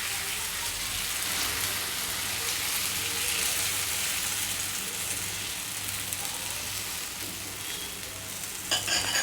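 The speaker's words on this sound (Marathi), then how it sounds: "इथे मी पोळी टाकलेली आहे आणि एकदम छान मस्त खरपूस होस्तोपर्यंत आपल्याला ती फ्राय करून घ्यायची आहे" A gram-flour flatbread (besan poli) sizzles loudly on a hot griddle, a steady crackling hiss throughout, with a brief clatter near the end.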